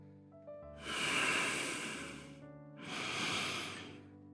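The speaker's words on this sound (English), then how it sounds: "I lean closer and slowly become aware of his steady breathing." Slow, steady breathing of a sleeping man in a video game, two long airy breaths close to the mic, each swelling and fading against a quiet tonal music bed.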